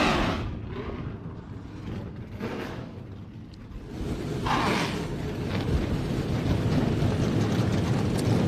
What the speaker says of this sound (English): as we savor the sound of those beautiful engines, muscle cars rolling into action as they have since 1966